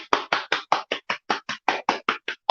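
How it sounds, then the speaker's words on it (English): A single person claps about thirteen sharp, evenly spaced hand claps in quick rhythm, close and clear, honoring a winner at a 2021 Global Black History Honors award event. "give her a clap"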